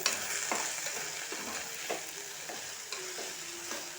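Okra sliced for a fry, stir-fried in oil with turmeric, gives a continuous crackling sizzle broken by repeated scraping strokes of the spatula, close and alone.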